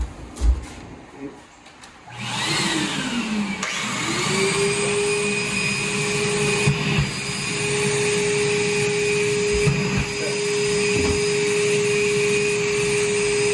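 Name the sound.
vacuum running while stripping wood sash with paint shaver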